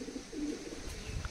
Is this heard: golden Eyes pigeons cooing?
yes